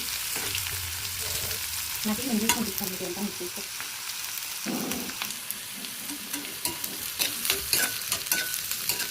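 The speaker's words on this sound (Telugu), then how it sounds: "ఇక్కడ స్టవ్ అనేది మీడియం ఫ్లేమ్లో పెట్టుకొని కాకరకాయ ముక్కలను అయితే వేయించుకోవాలండి" Bitter gourd pieces fry in a pan over a medium flame, giving a steady broadband sizzle with bursts of stirring and scraping in the middle and occasional sharper clinks, close and fairly loud with no talking.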